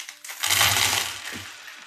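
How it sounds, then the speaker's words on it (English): Gold coins spill onto the floor in a short, bright metallic clatter lasting about a second. A few small jingles trail off after it, close and moderately loud, with no talking. "a bunch of his gold coins spilled out"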